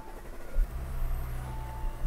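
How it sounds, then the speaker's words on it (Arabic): A 2018 Audi A8 engine starts up after a battery hookup: a low rumble builds with a slight surge and settles into a steady idle hum, close by and alone without talk. "نشغل السيارة."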